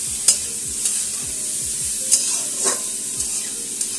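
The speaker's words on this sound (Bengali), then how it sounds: "একদম বড়িটা ভেজে তেলের মধ্যে ভেজে আমি দিয়ে দিলাম।" Spiced lentil dumplings (bori) frying in oil for a radish curry, a close sizzling hiss punctuated by several sharp stirring scrapes and knocks against the pan.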